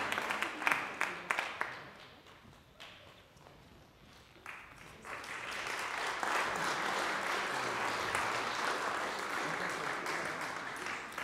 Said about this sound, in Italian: Questi applausi un pochino flebili, come mai?